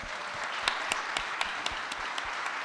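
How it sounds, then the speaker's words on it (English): A small audience at a talk on historic homes gives a round of applause, a steady patter of many hands clapping at moderate distance, fairly faint, with a few louder individual claps standing out. "Anyway, one more round of applause,"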